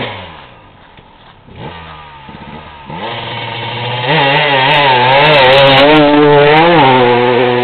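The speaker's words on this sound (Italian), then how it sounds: "Si sente importante questo motore." A KTM enduro motorcycle engine revs hard close by, its loud buzzing note climbing and holding high in a series of surging throttle blips, with no talking.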